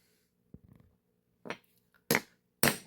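Hammer blows on a sharp center punch set against metal rivet heads while working on a C4 Corvette, giving a few soft taps and then three loud, sharp metallic strikes spaced about half a second apart, close by.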